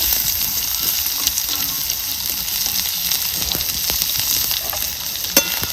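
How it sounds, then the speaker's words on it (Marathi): Chopped onion frying with cumin seeds in a pan, a steady loud sizzle that holds throughout with a few faint clicks of stirring, close up and alone. "कांदा चांगला भाजून घ्यायचा आपल्याला कांदा भाजलेला आहे"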